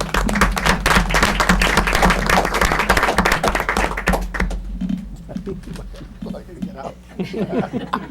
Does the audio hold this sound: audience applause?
yes